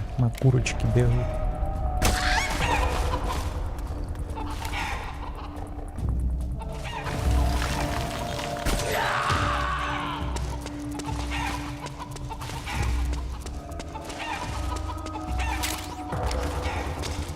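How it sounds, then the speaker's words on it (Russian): Chickens cluck and a rooster crows inside the Metal Gear Solid 4: Guns of the Patriots game on PlayStation 3, scattered bird calls mixed with mechanical game sounds and someone talking over the action. "Курочки бегают."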